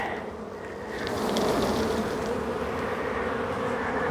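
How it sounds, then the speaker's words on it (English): A dense swarm of honeybees buzzes loudly and continuously up close, the drone swelling slightly after the first second. "what I need to do though is shake off the bees"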